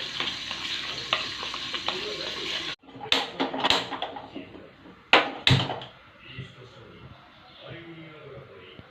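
A spoon stirs yogurt with turmeric, chili powder, ginger paste and cashew paste in a bowl, giving soft scraping swirls and a few sharp clinks against the bowl, with a voice talking over parts of it.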